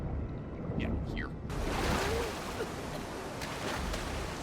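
Water in The Last of Us Part II laps and splashes with a broad rushing wash, a few faint rising tones near the start before the surge swells and stays steady.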